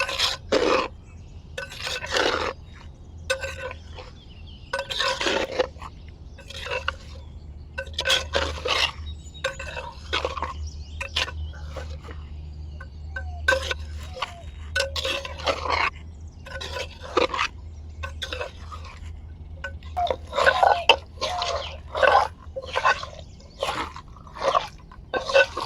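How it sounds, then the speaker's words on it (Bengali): A metal spatula mixes chicken and raw jackfruit in hot oil in a pot, giving short, uneven bursts of scraping and clinking strokes separated by pauses over a low background hum. "এখন তেল গরম আছে, ওই জন্য খুন্তির সাহায্যে আমি মাখছি"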